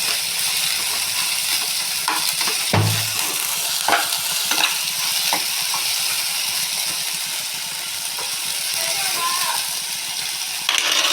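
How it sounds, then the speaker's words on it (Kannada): Coriander leaves frying in a pan for mutton sambar, a steady soft sizzle throughout with occasional stirring clinks and scrapes, heard up close without talk. "ಇವಾಗ ಫ್ರೈ ಮಾಡಿ ಚೆನ್ನಾಗಿ ಫ್ರೈ ಮಾಡೋಣ"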